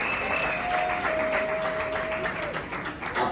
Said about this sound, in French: Sur nos applaudissements.